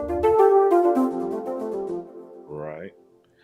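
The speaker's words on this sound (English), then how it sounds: "So like this is one pad that's called flute pad" A flute pad synth patch from the Peculiar Sounds V2 library plays a soft, breathy sustained tone with shifting harmonics, a held chord that fades, then a brief rising note, heard alone and close.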